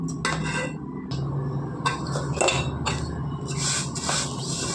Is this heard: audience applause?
no